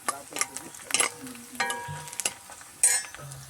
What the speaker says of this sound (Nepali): अब मस्त भुटिरहेछ यो प्याज।